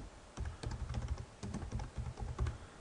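Quick bursts of close keyboard typing on a computer as a name is entered into PC software, soft irregular clicks in short clusters with brief gaps and no talk.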